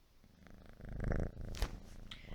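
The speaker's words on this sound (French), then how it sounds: "Je sais pas si vous l'entendez, mais elle ronronne." A cat purrs softly up close, a low rumbling rhythm that swells and fades, with a brief rustle partway through.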